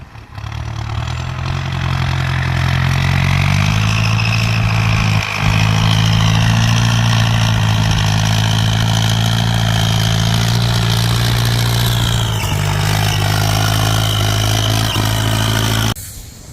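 A Ford 5000 turbo farm tractor engine runs steadily at idle for the whole stretch, a loud, close, even diesel drone with a slight shift in pitch partway through and no talking.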